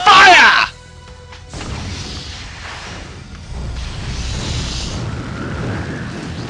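The Spirit Bomb attack in Grandia bursts with a loud, short explosive blast, followed by a lower rumbling wash of effects while people talk.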